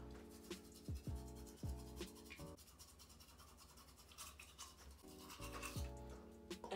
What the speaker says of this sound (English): Brush that tongue.